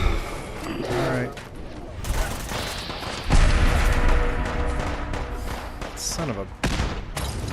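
Gunfight with gunners in Fallout 4 with the Sim Settlements 2 mod: bursts of gunfire, booms and clattering impacts over several seconds, loud and dense, with a man exclaiming briefly.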